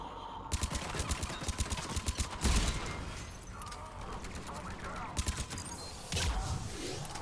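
Rapid bursts of gunfire from the video game Mass Effect 3, loud, repeated volleys with thuds and mechanical clatter, under a busy mix of game effects.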